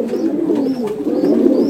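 High Flyer pigeons coo in soft, throaty, rolling calls, several overlapping close together in a continuous low burble with no talking.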